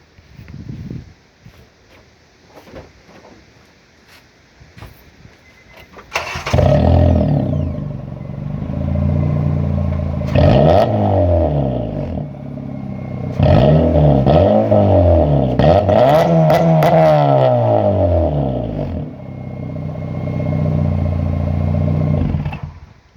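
A 2008 Honda Civic 1.8L automatic with a DNO cat-back exhaust idles quietly, then is revved up loudly several times, each rev rising and falling, with a lower idle between bursts.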